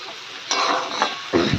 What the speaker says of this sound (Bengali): তো এটা ভালো করে ফ্রাই করবো